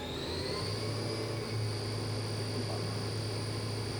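A Hurco vertical machining center spindle runs at 5,000 RPM, a steady high-pitched whine with a constant hum underneath, even and unbroken, with no talk.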